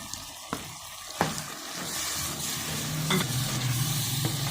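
Chickpeas frying with a paste of three to four tomatoes in a pan, a steady close sizzle with a few sharp clicks of stirring, no talk.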